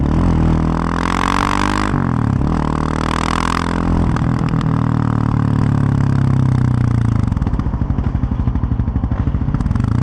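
A Yamaha Raptor 700R quad's engine thrums loud and close while riding at sunset, revving up and down in rising and falling sweeps, then settling into a steady rough idle-like throb near the end.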